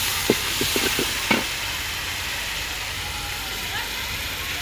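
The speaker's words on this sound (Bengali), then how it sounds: "পেঁয়াজটা একটু ভাজা হয়ে গেছে। আর দিয়ে দিছে রসুন বাটা।" Onion, green chilli and garlic paste fry in oil in a pan, giving a steady hiss with a few short stirring scrapes and knocks near the start, then a settled sizzle.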